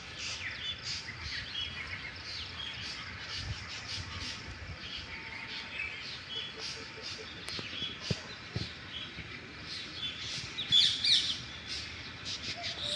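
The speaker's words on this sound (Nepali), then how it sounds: "अब सुन्नुहोस् यहाँ चाहिँ चराचुरुङ्गीको आवाज।" Birds chirp and call outdoors in open grassland, with many quick high tweets and squawks overlapping at moderate distance over a faint background hiss, and no talking.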